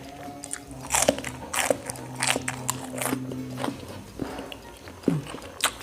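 Crisp, close bites and crunching chews of fresh cos lettuce salad, several loud snaps spaced about a second apart over a soft background hum.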